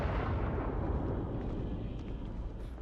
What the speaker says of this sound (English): We hear an explosion in the distance